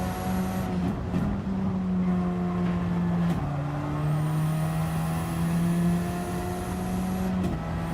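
A GR4 race car engine in a racing video game drones steadily with sustained revving tones, dipping at gear shifts and climbing again as the car accelerates through a lap, with no voices.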